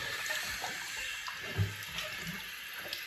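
Clean water runs from a tap into a shaving basin, a steady close splash and trickle with a soft bump midway, no voices.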